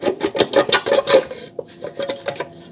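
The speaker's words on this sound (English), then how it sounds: "now I'm going to grab the valve cover from the back tube and from this little bracket" A plastic valve cover on an Audi A4 1.8T Quattro (B6, AMB) engine being worked loose by hand, with a rapid run of scraping, rubbing rasps followed by softer, more scattered creaks and knocks, close up.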